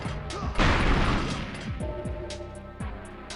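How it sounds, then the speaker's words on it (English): Remote mine detonating in GoldenEye 007 on the N64, a single loud crunchy blast that swells and slowly decays into rumbling debris, with faint repeated mechanical clicks continuing behind it. "So you can stick mines to stuff and detonate them."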